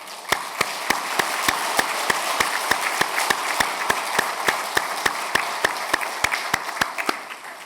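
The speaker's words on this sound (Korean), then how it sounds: "큰 박수로 축복하시고 환영해 주시기 바랍니다" Rhythmic applause from a church congregation at a Sunday service, with sharp, evenly spaced claps standing out over a softer bed of clapping.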